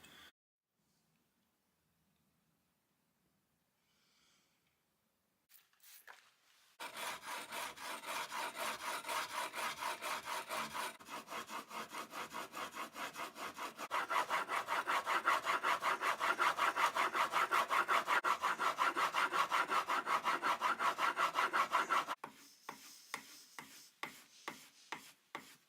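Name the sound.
honing a secondary bevel on a chisel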